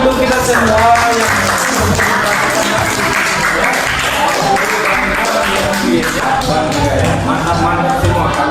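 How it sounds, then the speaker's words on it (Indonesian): Primary school classroom applause, a steady mass of clapping from the pupils with children's voices and cheering mixed in throughout, close and loud. "tepuk tangan untuk kita semua"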